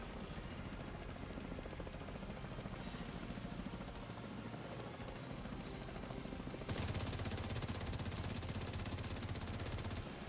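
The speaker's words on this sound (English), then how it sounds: "next helicopter. Coming in right in the same place-ish." A helicopter approaches in the shooter video game The Division 2, its rotor a loud, steady, rapid chop that grows abruptly heavier and deeper partway through as it draws near, with no talk.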